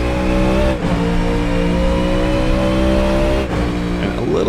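The URD Coyote GT3 race car in a racing video game, its engine droning loudly and steadily at high revs, with two brief dips as it shifts gears, close and without talk.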